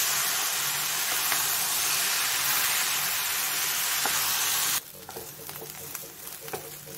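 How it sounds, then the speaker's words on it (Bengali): Rice fries in a pan with tomato puree, butter and garlic, giving off a loud, continuous sizzle. The hiss then drops abruptly to a quieter crackle with occasional stirring scrapes and clicks. "চালটাতে ফুটফুট আওয়াজ হচ্ছে, ভাজা আমার হয়ে এসছে।"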